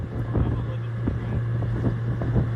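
A commercial lobster fishing boat runs across open water in the Florida Keys, its steady low engine drone continuous beneath wind buffeting the microphone, with occasional thumps from the hull meeting waves.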